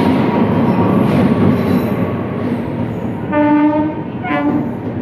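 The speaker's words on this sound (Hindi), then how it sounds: "इस वक्त हम मौजूद हैं मुजफ्फरपुर रेलवे स्टेशन पर" Train at crowded Muzaffarpur railway station, a loud steady rumble of rolling rail cars with a tonal horn or wheel squeal rising near the end.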